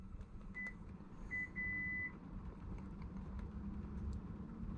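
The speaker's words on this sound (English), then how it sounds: "Okay, so intermittent beep" A car key fob gives a few short electronic beeps when its lock button is pushed, then one longer steady tone, over a constant low rumbling background.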